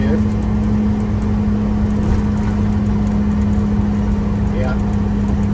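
A car engine labors after a late downshift on a steep hill during a road trip, holding a steady, heavy drone with a strong low hum the whole time while someone talks over it.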